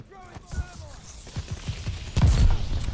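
Sniper rifle shots in a Call of Duty-style video game, with a few separate sharp reports and mechanical clicks, ending in a louder blast. Someone speaks over them.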